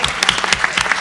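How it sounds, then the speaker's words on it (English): Audience applause at an emeritus lecture, a short burst of many hands clapping with scattered sharp claps standing out, fairly loud and close, no talk over it. "Let's give a big round of applause to Don and the panel."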